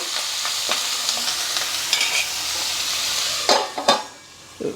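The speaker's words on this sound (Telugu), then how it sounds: "ఈలోపు ఉల్లిపాయ వేగిపోతుంది" Salted onions frying in a pan for a ridge gourd curry, an even hiss of sizzling throughout, with a few louder scraping stirs toward the end.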